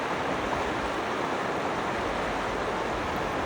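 Strong river current rushing steadily in Slovenia, a dense, continuous broadband roar of moving water that stays loud and unbroken throughout, with no voices over it.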